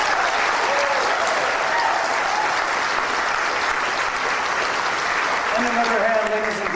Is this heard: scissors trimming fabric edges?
no